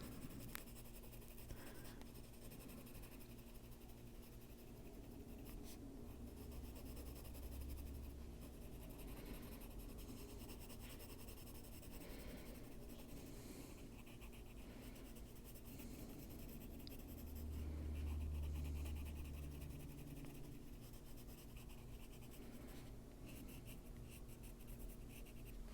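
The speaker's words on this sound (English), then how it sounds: "Pull in a little black if I can find a black pencil out here." Colored pencil scratching steadily across paper while coloring a wolf page, a soft continuous scraping close to the mic with small pauses and pressure changes throughout, and no talking.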